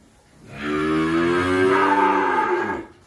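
A fattening cow on a cattle farm in Vinh Long moos once, a long loud low call of about two and a half seconds, close and alone without talk.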